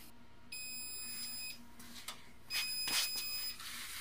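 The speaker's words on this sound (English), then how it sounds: "Okay, so timer went off." Kitchen-style timer beeping during a tumbler sublimation job: two bursts of high, piercing tonal beeps, each about a second long, over faint room noise.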